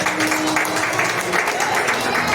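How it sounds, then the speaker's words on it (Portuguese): A church congregation applauds, a broad wash of steady clapping from many hands sustained evenly throughout, fairly loud and filling the room. "Você recebe o Senhor com as palmas."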